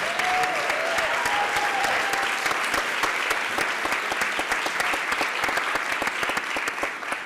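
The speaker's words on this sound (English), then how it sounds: "Let's give a round of applause to the full panel." A large audience at a healing summit in Chicago applauds the full panel, a dense, steady wash of many hands clapping that holds at full strength from start to finish.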